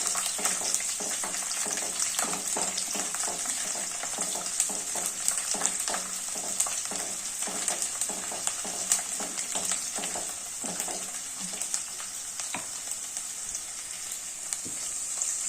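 Garlic, cumin, mustard seeds and urad dal frying in hot oil, a loud, steady close-up sizzle with crackles and pops throughout and no talk.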